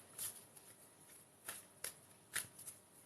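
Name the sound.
handling and picking angel cards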